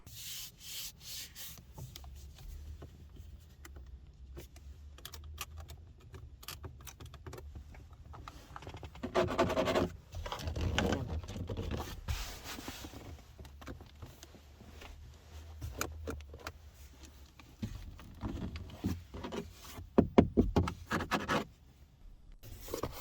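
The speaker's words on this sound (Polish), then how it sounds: "Momentami jest bardzo twardo, a część elementów niestety skrzypi pod naciskiem." Plastic interior trim in a facelifted Volkswagen Polo creaks and rubs in repeated short bursts under pressing hands, close and fairly quiet, with no voices.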